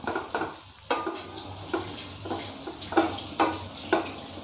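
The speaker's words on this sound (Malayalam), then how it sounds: "ഇനി ഇത് നന്നായിട്ട് ചെറിയ ഫ്ലെയിമിൽ വെച്ചിട്ട് ഒന്ന് വറുത്തെടുക്കാം" Grated coconut roasting in coconut oil on a low flame for avil laddu, with repeated scraping stirs of a spoon against the pan over a gentle continuous sizzle, close and steady, no voices.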